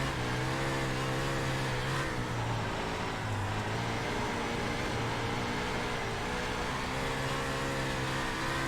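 A NOS 410 sprint car engine on a qualifying lap at Lincoln Speedway in the iRacing game, roaring loud and steady with a brief dip and rise in pitch through a corner, heard alone.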